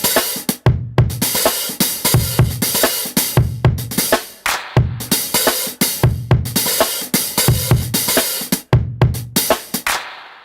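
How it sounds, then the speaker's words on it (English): A steady, punchy drum-machine pattern played from an Akai MPK Mini 2 MIDI controller loops over and over, with kicks and snappy hits in a tight repeating rhythm, loud and upfront. "it's utilizing a contact drum machine that is giving us those notes"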